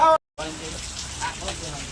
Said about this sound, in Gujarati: જો આ કેવા વરસે છે કેવો વરસાદ પડે છે